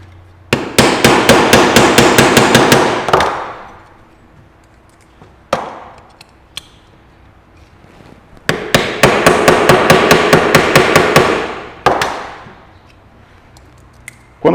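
A hammer strikes a chisel in two fast, loud bursts of rapid metallic blows while working a part off a car steering box, each burst followed by a few single heavier hits, close and with no talk.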